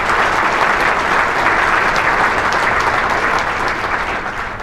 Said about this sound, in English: Will you please give them a round of applause and thank them for their help.